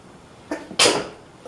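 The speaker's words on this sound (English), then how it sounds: "that seasoning about to make me sneeze." A single sharp sneeze bursts out after a small intake of breath, close and fairly loud in a quiet room.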